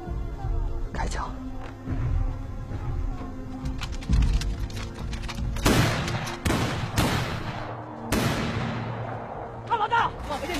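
Gunfire in a war action film, several sharp loud shots and bursts cracking out over an urgent background score, with shouted voices in between.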